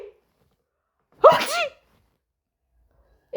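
A single loud sneeze imitated by a voice, sharp and close, surrounded by near silence.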